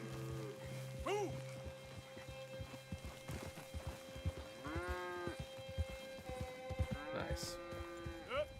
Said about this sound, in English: That's a lot of cows,